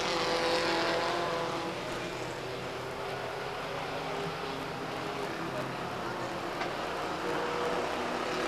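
Race trucks passing on the Stockton 99 Speedway oval, a steady loud engine roar that swells and fades as the field goes by, under continuous announcer commentary.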